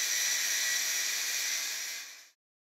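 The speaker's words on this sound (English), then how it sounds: "Sand down the outer weld seam." A sanding machine grinds the weld seam on stainless steel, a steady high-pitched hiss that holds for about two seconds, then winds down abruptly to silence.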